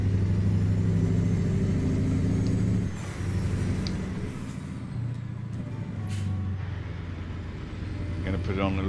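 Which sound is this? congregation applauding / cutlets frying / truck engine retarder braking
truck engine retarder braking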